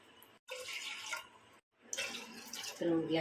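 Water is poured from a glass into a pressure cooker on the stove, two close splashing pours separated by a short silence, the second ending with faint talk.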